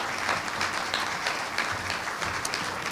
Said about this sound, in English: let's give each of our panelists a round of applause for being here this morning